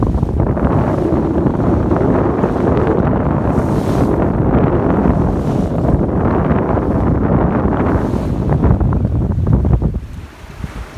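Strong wind roaring across a Catalina 22 sailboat, double reefed and close hauled in about 17 knots, a loud continuous gusty buffeting with water rushing against the hull, easing briefly at the very end.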